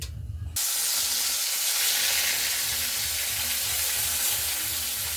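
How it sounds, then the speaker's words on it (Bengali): Fish fries in a home kitchen pan with a loud, continuous hiss and sizzle that starts abruptly and holds steady close by, with no talking. "তো মায়ের মাছটা ভাজা হতে থাকুক"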